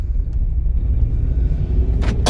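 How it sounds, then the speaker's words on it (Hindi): A car engine rumbles low and steady during a driving lesson, rising slightly as it is revved, with a couple of brief sharp noises near the end; close and without talking. "रेस दो, हाँ रेस पर बेटा, पूरा छोड़ दो, रिलीज कर दो पाँव को"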